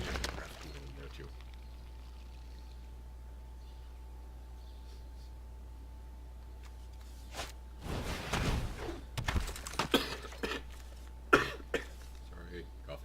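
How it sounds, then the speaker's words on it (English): A person coughs several times in a cluster near the middle and end, loud against a quiet background with a faint steady hum. "Sorry, coughing."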